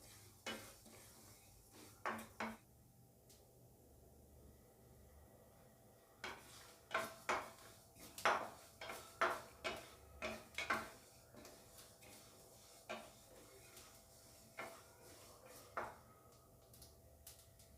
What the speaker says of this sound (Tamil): பொரியிற சத்தம் கேட்குறீங்களா?